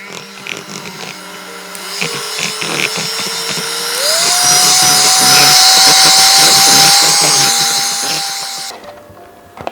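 An electric hand mixer beats egg yolks into choux pastry dough for vanilla éclairs. Its loud, close, steady motor whine rises in pitch partway through, then cuts off near the end.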